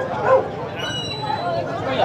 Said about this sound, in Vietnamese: Ở đây thì có bán rất là nhiều chú cún.